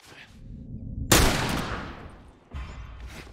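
A single loud gunshot fired as a headshot attempt in The Last of Us Remastered, a sharp blast with a long decaying tail, then another burst of action noise near the end.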